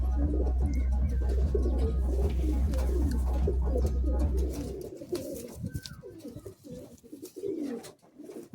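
Madrasi pigeons coo in low, throaty rolling phrases, among them a male of the Dasur line, with a steady low hum beneath for the first half, then quieter, more broken cooing.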